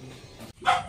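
A dog gives a single short bark, close and fairly loud, after a brief low murmur of background noise.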